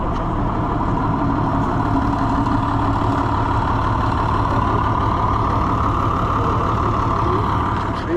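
A Farmall/International 986 tractor engine runs steadily at a farm machinery auction, a loud, continuous diesel rumble with no breaks and no talk over it.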